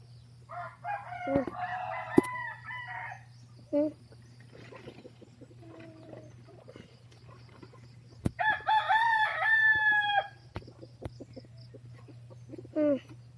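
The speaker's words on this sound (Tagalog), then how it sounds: "4 ditong manok." A rooster crows loudly mid-clip while four chickens cluck and squawk intermittently around it, with a low steady hum in the background.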